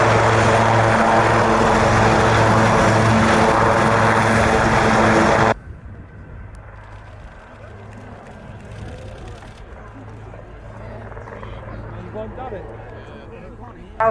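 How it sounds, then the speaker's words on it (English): A Boeing B-17 Sally B propeller aircraft landing: a loud, steady multi-engine drone that cuts off abruptly partway through, leaving quieter background sound with what seems to be talk. "bringing it into land with Sally B, the B-17"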